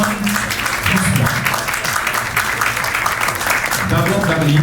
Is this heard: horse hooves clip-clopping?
no